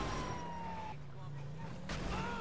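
Ambulance siren in GTA 5, a wailing tone sweeping up and down under traffic and engine noise, moderately loud and nearby.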